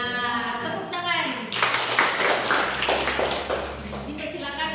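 Students in a university classroom teaching simulation break into applause for a group after a brief spoken line, a dense burst of clapping that carries on steadily to the end.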